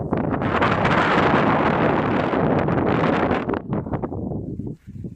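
Strong wind roars outdoors under light drizzle, with trees swaying, a loud steady buffeting that gusts unevenly and dips briefly near the end.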